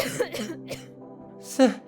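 A short burst of coughing and throat clearing up close, rough and breathy, ending in a louder hack.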